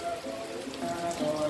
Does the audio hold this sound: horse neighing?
no